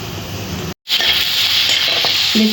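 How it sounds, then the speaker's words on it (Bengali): Maggi noodles stirred with masala in a hot pan, a bright continuous sizzle with scraping stirs, close and fairly loud, cut by a brief silent gap near the start. "দিয়ে ভালোভাবে মশলাটা ম্যাগির সাথে মিশিয়ে নিতে হবে"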